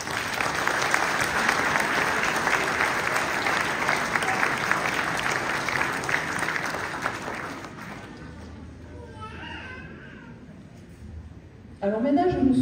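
A town-hall audience at a mayor's New Year greetings ceremony in Castelnau d'Estrétefonds applauds loudly and steadily for about eight seconds. The clapping then fades into a quieter room before a voice begins speaking.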